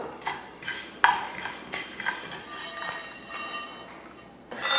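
Dry roasting spices and sesame seeds in a pan: dry scraping and stirring, with a spoon clinking and rasping against metal in irregular strokes, close up, with a light sizzle underneath.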